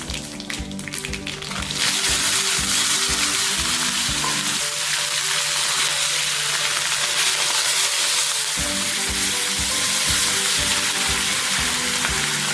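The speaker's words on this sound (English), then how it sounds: "That's heated up, and I'm going to add the mustard and the urad." Mustard seeds and urad dal hit two tablespoons of hot oil, bursting into a loud, close crackling sizzle that holds steady, with scattered popping taps and no voices.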